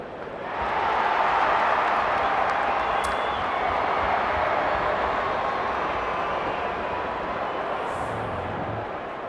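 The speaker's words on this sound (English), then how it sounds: "The crowd already making plenty of noise as the captains come together." Stadium crowd in the AFL 23 football video game, a broad continuous roar of many voices at steady loudness, building slightly at the start, with faint short sounds on top and no speech.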